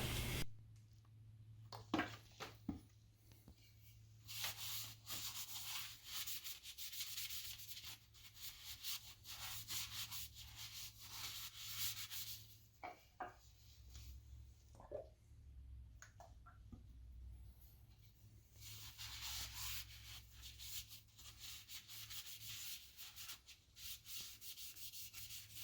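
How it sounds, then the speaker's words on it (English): Sandpaper rubbing against a spinning wooden hollow form on a lathe, a steady close scratchy hiss with the motor hum beneath, swelling and fading in long passes with brief pauses between, no talking. "I'm gonna go ahead and sand up all the other sides of it real quick"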